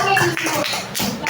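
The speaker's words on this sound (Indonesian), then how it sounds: "Beri tepuk tangan untuk kelompok 3." Audience applause for a presenting group in a classroom, a close, steady patter of many hands clapping with mixed voices and murmuring underneath.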